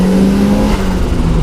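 Loud, steady engine drone from a modified turbocharged first-generation Mazda MX-5 held at high revs, heard from inside the car with a rough, buzzy tone and no talking.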